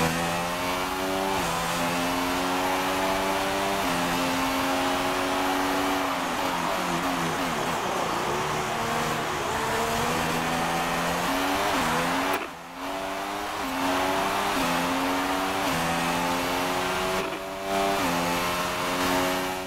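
Formula 1 race car engines in the F1 2016 video game scream loud and continuous, pitch climbing through gears and dropping on downshifts, with brief dips as cars pass close.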